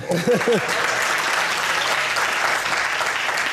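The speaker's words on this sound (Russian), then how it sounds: "это не нам, тебе хлопают" Studio audience applause during a talk show taping, sustained, even clapping from a seated crowd, with a brief voice speaking over it at the start.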